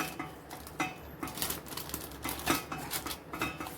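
Spoon spreading and patting a thick amla, moringa and honey candy mixture on butter paper, giving close, irregular scraping and tapping clatter with soft utensil clicks, no talking.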